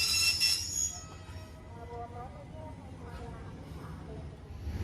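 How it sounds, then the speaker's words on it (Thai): Train no. 201 bound for Phitsanulok pulls out of a station in Bangkok, with a steady rumble of wheels on rails and faint squealing tones, heard under someone talking nearby. "ไปแล้วครับ โอ้ย ขบวน 201 นะครับ ปลายทางพิษณุโลก"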